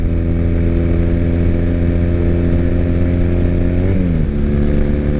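A 2006 Triumph Bonneville motorcycle engine drones loudly and steadily while riding, a close rumbling tone that dips briefly as the rider shifts near the end.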